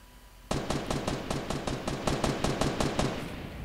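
Sustained rapid automatic gunfire in the video game Fortnite, a loud, evenly spaced string of about a dozen sharp shots starting abruptly and continuing to the end.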